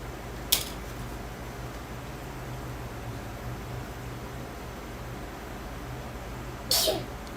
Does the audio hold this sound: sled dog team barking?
no